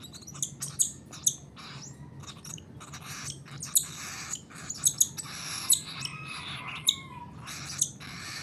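Bright, short bird chirps repeat irregularly over a faint, steady background hiss, with small clicks scattered between them.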